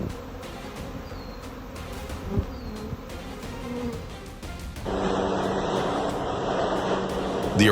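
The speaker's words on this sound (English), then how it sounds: "B's thousands of tiny aircraft, buzzing and filling the skies above Salt Lake City." A swarm of thousands of bees buzzing in the air above Salt Lake City, a dense droning hum with scattered nearer buzzes, then a louder, fuller drone in the second half.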